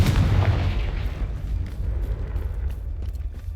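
A Confringo blasting spell explodes in Hogwarts Legacy with a deep booming burst that rolls off into a low, rumbling decay.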